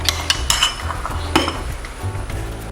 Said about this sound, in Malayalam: കുറച്ച് സോൾട്ടും കുറച്ച് പെപ്പറും ഇടുക. നന്നായി മിക്സ് ചെയ്തെടുക്കാം.